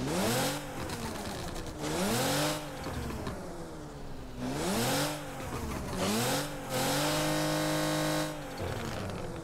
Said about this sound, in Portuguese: Vamos ver o barulho do V6 agora.